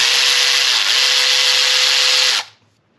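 Power drill fitted with a T30 bit spins out trim fasteners on a 2017 Porsche Cayenne S during a valve cover gasket job, one steady close, loud whir for over two seconds that then stops abruptly.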